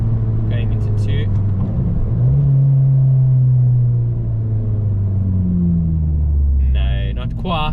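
A turbocharged car accelerates hard in second gear, its engine drone rising steadily and loudly, with a voice talking over it near the start and end.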